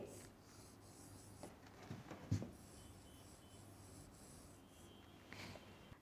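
Pen or pencil writing words on paper, quiet scratchy strokes with a few louder scrapes and faint breathing, close and soft, without talk.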